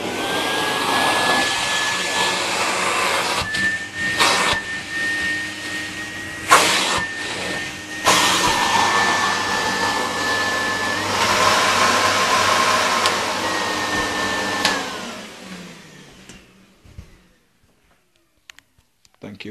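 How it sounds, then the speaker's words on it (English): A Henry vacuum cleaner motor spins up slowly into a loud, steady whining roar with a rising tone, runs for a while, then winds down and falls silent near the end. "When you start the motor up on this one"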